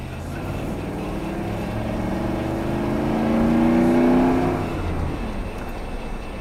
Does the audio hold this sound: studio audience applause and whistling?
no